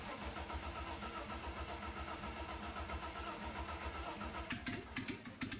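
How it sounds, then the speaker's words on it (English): A 35-year-old BMW 325i E30 convertible cranks rhythmically and steadily as it tries to start but does not catch, close by and loud, ending in a few sharp clicks. "it's trying to start, so it just might need to pull a little bit more fuel from the fuel pump"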